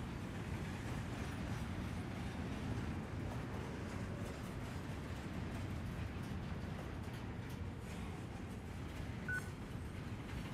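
Steady, dense rumble of a train running in Final Fantasy XV, a continuous broadband roar with no breaks and a faint tone near the end, with no talking.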